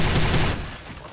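A quick cluster of loud gunshots from the video game Prey, fired in rapid succession and fading into a short tail.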